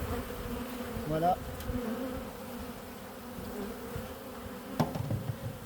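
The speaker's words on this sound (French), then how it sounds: "j'ai en fait une boîte qui est adaptée où je vais mettre une certaine quantité d'abeilles" Honeybees buzzing inside a box during a winter hive inspection for a varroa mite powdered-sugar test, a steady close hum with a brief spoken word and some handling noise.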